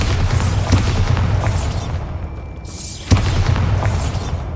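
The Bombarda blasting spell erupts with deep booming explosions in Hogwarts Legacy, heavy low thuds repeating amid rumbling combat, one sharp blast after a brief lull.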